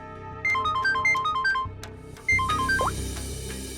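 A telephone rings in two electronic bursts, each a quick run of bright melodic beeps, the second burst starting after a short gap and ending in a rising chirp.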